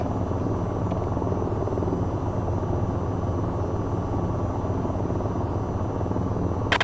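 A VTOL aircraft's engines roar as it hovers during takeoff in the flight simulator game VTOL VR, a loud, steady, dense whooshing drone that holds unbroken throughout with no voices.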